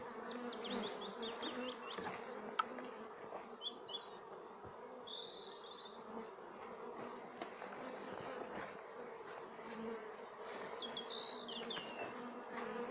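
A swarm of honeybees buzzes steadily and densely throughout, a continuous close hum during the hiving of the swarm, with a few faint bird chirps in the distance.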